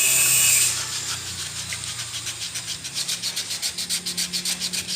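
Body filler on a 1977 Colt T-120 pickup is hand-sanded with fine sandpaper, a close, rhythmic rasping of fast back-and-forth strokes that quickens toward the end, following a brief hiss at the start.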